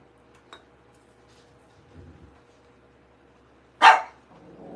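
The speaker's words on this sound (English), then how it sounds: "Oh, there goes one of my dogs." One of several pet dogs in a house gives a single sharp, loud bark close by, reacting to something outside, with near silence before and after.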